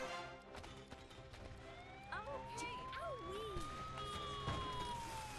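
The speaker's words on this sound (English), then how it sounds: "Oh wow, an ambulance." An ambulance siren wails in Goat Simulator 3, its tone sweeping up and down in a clear rising-and-falling pattern over busy game background noise, with voices speaking along with it.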